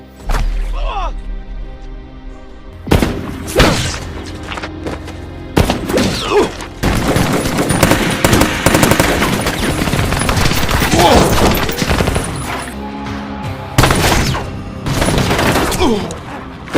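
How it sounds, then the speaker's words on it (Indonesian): Gunfire from a sniper rifle in an action film, heard as loud sharp bursts repeating across the scene over a dense, busy soundtrack with some voices. "ia langsung menembaki mereka tanpa ampun"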